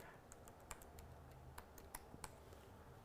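Soft keyboard typing: a scattering of light key taps in an uneven rhythm over quiet background noise, nearby and without speech.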